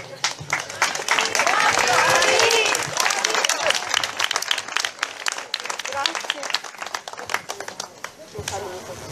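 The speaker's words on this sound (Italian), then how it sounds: "ecco ancora un grandissimo applauso" Crowd applause at a festival presentation in Italy, loud sustained clapping at first that breaks into scattered claps with cheering voices and talk mixed in.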